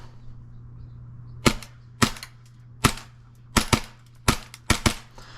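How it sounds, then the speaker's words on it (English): An airsoft pistol fires BBs in about nine sharp, snappy cracks, spaced unevenly, some in quick pairs, against a faint low hum. "Actually probably my favorite pistol I've shot so far."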